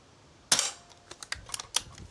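A single sharp crack from an S400 air rifle fired at a paddle target, followed by several faint ticks and clicks of handling, quiet and close with no talk.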